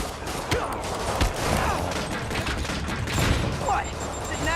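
Barrage of rockets and gunfire in a Spider-Man video game, dense overlapping blasts and booms filling the whole stretch with constant battle noise and a voice speaking briefly amid the chaos.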